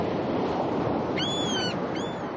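Surf breaking along a rocky shore where black oystercatchers feed, a steady broad wash of waves close by, with a few brief shrill bird calls cutting through it.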